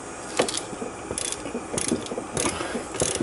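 A ratchet clicks in short, repeated bursts while tightening bolts that press the wheel bearing housing into place on a 2003–07 Saturn Ion front hub, close by and moderately loud, with no talking.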